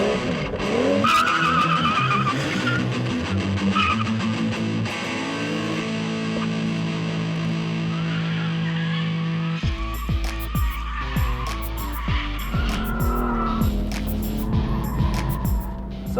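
A BMW 235 2 Series coupe with a powerful engine is driven hard on a closed track, engine revving through gears while tires squeal and skid repeatedly, loud and continuous.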